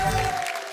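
A studio audience at a Hindi poetry show applauds after a patriotic poem; a brief burst of clapping with an underlying tone quickly thins out and fades.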